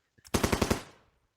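Gunfire erupts in the Vietnam War strategy game Lock N' Load Tactical, Heroes of the Nam Marines scenario: one short burst of about five rapid, punchy shots, then a quick fading tail.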